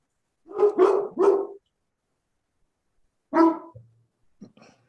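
A dog named Sammy barks outdoors, three quick close barks in a row, then a pause before another bark with a short growl and a few softer yips.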